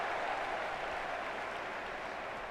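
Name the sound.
crowd cheering at football stadium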